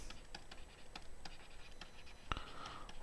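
Chalk or marker strokes on a board while working a pipes-and-cistern math problem, a series of short, crisp scratchy taps and one firmer stroke, close and fairly quiet, with no talking.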